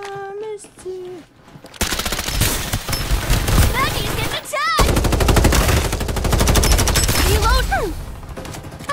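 Automatic weapon fire in the Farlight 84 shooter game: sustained loud machine-gun bursts and rapid gunshots, with whooshing and chirping effect tones mixed in, after a short quieter opening.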